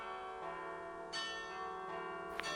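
Carillon bells of Saint-Paul Cathedral in Liège ring out in sustained, overlapping tones, with new strikes entering over a resonant lingering hum, moderately faint and alone.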